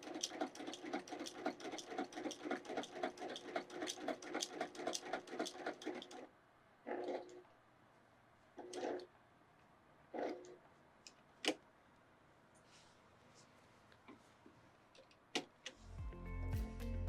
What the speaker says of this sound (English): I'm using the appropriate walking foot for this machine so that both layers feed through at the same rate.